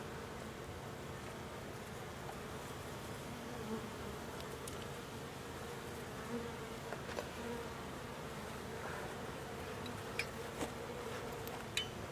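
A dense, steady buzzing of many honey bees in a five-frame nucleus hive during inspection, continuous throughout with no talking, a few faint clicks and taps rising above the drone.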